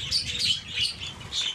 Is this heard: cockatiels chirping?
yes